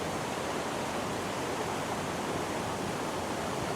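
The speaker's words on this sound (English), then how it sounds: "Do like a good waterfall" Horseshoe Falls, a waterfall in Marsden, West Yorkshire, pours in a steady, dense rushing roar that stays constant and fairly loud throughout, with no voices.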